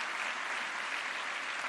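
Steady, dense applause from an audience honoring health workers at the ISSSTE regional hospital in Tlajomulco, Jalisco, sustained evenly throughout with no pauses.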